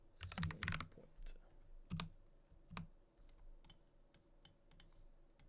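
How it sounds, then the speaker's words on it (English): Typing on a computer keyboard, with sparse, quiet key clicks in short bursts, a quick cluster at the start and then scattered single taps. "For some reason my keyboard is typing keys I didn't even type in."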